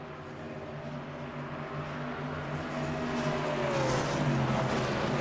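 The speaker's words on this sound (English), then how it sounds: "Listen to the engines rise." Race car engines in a NASCAR league sim race at Auto Club Speedway drone together as a steady multi-engine roar, pitch rising and growing louder toward the end.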